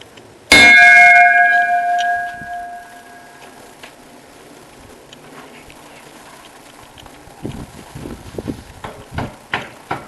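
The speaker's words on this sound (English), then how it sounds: "third ring of the bell, and that's the last one for today" A single struck bell rings once, sharp and loud with a long ringing decay, the last of three rings for the day, followed by quieter background clatter and knocks.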